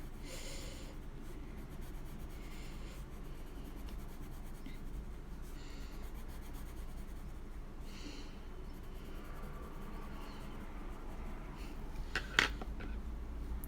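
Inktense colored pencil scratches and rubs steadily across paper, close and quiet, in short repeated strokes over a low background hum.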